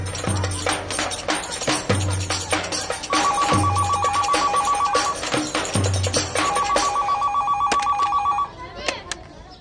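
A landline telephone rings repeatedly in a home, with a warbling electronic ring in two long bursts, loud and close, while people talk and laugh over it.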